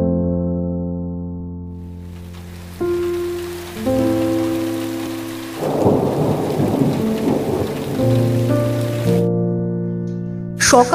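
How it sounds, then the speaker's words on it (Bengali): Heavy winter rain pours steadily while low rumbling thunder rolls through, the downpour swelling louder midway and continuing without pause. "থেকে টানা বৃষ্টি এই শীতকালে এসব মানা যায় এই বৃষ্টি না ননস্টপ"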